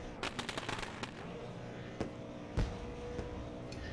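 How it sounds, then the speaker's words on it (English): A quick string of sharp pops and bangs from fireworks, then scattered louder booms at a distance over a steady rumbling background, at a speedway race. "Fireworks Absolutely. shooting off in the backstretch there for you folks as well"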